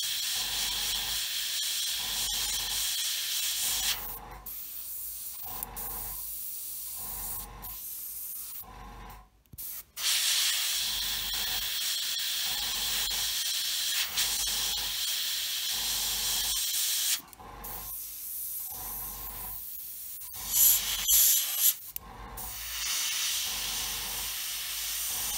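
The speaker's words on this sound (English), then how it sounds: "So this is the Duraluminium back again in the airbrush." An airbrush sprays Humbrol Duraluminium metallic paint onto an Airfix Hawker Hurricane Mk.I Tropical scale model, giving a steady close hiss in long bursts broken by brief pauses, with no voices.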